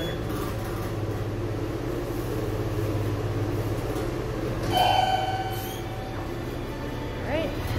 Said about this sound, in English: So I can turn off the fan because it's very loud and you can't hear the motor